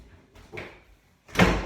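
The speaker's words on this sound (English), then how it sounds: "Shut this door." A door being shut in a home near the kitchen, a soft shuffle and faint knock before a single loud, close thud at the end.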